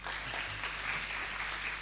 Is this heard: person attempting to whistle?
no